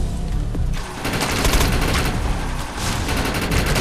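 Continuous heavy gunfire with overlapping shots and booms rattles through a battle in the shooter MMO Defiance, loud and dense throughout with only brief dips.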